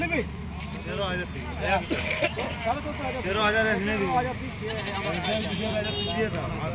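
A local goat bleats at a busy livestock market, its wavering calls rising over a constant murmur of crowd chatter and nearby voices.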